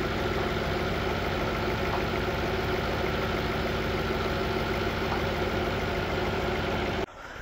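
A car engine that surges under load idles steadily at low revs while warming up after a cold start, a close, loud, continuous drone that holds unchanged before cutting off near the end.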